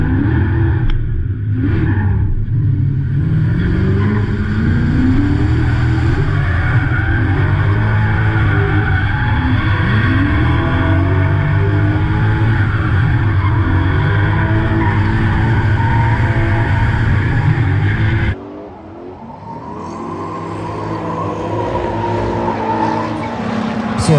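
A BMW E92 drift car with a twin-turbo 3.5-liter engine roars loud and steady through a drift battle, its tires skidding and squealing without pause. Near the end the noise suddenly drops, then slowly builds again.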